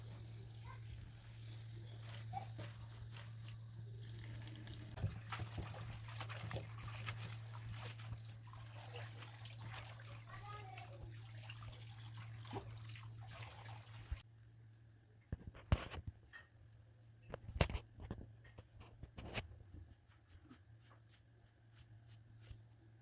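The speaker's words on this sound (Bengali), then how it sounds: "পালং শাকগুলো ভালো করে কচলে কচলে ধুয়ে নিব কারণ পালং শাকের মধ্যে কিন্তু মাটি থাকে" Spinach leaves being rubbed and rinsed by hand in water to wash off soil, with close trickling and splashing, then louder sharp sloshes and drips after a quieter break, over a steady low hum.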